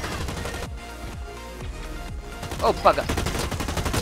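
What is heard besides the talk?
gunfire in the video game Blacklight: Retribution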